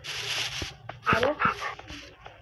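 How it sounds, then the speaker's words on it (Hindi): A dog gives a few short yips and whimpers close by while someone talks over it in a friendly, coaxing tone. "Nice doggy. इधर आ देखो।"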